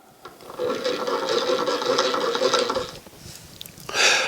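Antique Wheeler and Wilson 9 sewing machine turned by hand crank, giving a steady close whirring, rasping mechanical run for about two and a half seconds before it stops, followed by a brief rustle.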